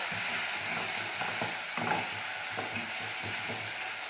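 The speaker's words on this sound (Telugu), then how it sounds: "ఇలాగా మొత్తం వెజిటేబుల్స్ అన్నిటిని కలిపి ఇలా మిక్స్ చేసుకోవాలి" Vegetables and chicken 65 mixture being stirred in a pan, a faint frying sizzle under repeated scraping, clicking strokes of a utensil.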